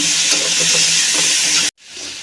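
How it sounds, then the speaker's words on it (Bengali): Ingredients fry in a pan with a loud, steady sizzle and hiss for a snakehead fish curry with bottle gourd and potato, cut off abruptly near the end before a quieter sizzle resumes. "ভালো করে মিশিয়ে নেব ভাজি করে নেব"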